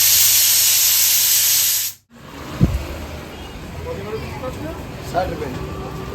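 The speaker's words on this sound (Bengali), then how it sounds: "এখন ওখানে প্রেশার কুকারের সিটি হচ্ছে" A pressure cooker whistle vents steam while meat cooks, a loud steady hiss that cuts off abruptly after two seconds, followed by quieter room noise with people talking.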